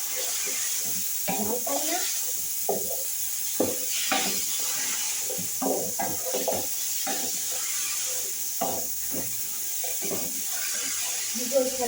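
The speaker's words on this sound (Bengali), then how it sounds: "গোশটা ভালো করে ভেজে নেবো।" Tomato and meat fry in a pan with a steady, loud sizzle and hiss throughout, broken by frequent stirring scrapes and clinks of a utensil against the pan.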